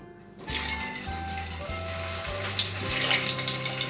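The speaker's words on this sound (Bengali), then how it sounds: "এবার আমি বলগুলো একে একে ভেজে নেব" Chicken kofta balls frying in a pan over lowered gas, a steady close sizzle that swells in waves as the balls go in one after another.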